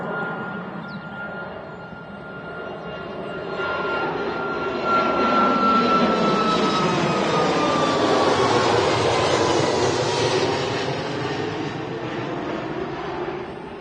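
A TUI Boeing 737 MAX 8 departing Manchester Airport for Toulouse swells into a powerful jet roar around the midpoint, with a whining engine tone sliding downward as it passes, then eases off slightly while staying loud.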